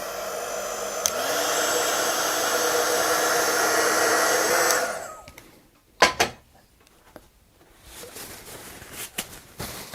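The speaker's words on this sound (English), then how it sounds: "I found the easiest way is just to melt the wax with a little heat gun" A small heat gun blows steadily as it melts leftover candle wax out of a container, a loud close whooshing hum for about five seconds that cuts off, followed by clunks and light handling noises.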